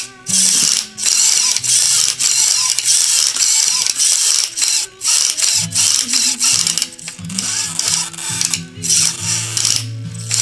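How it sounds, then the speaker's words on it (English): Faulty servo on an Axial Exo Terra Buggy RC car grinds and ratchets in loud, close, stuttering mechanical bursts, buzzing gears starting and stopping repeatedly throughout. "to give you guys an idea of how bad my servo is,"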